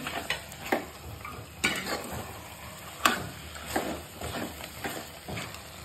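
Spoon stirring chili powder into mutton curry in a pan, with soft scraping strokes repeating at an irregular rhythm, close and fairly quiet, no voices.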